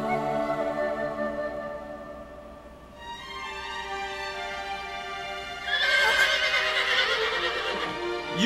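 A horse in the video game Shadow of the Colossus gives a long, tonal, drawn-out whinny, with a brighter breathy surge toward the end, clear and alone with no talk.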